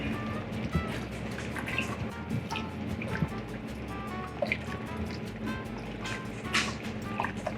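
Paprika being mixed into a liquid in a cooking pot, with steady wet sloshing and dripping and small utensil knocks scattered throughout.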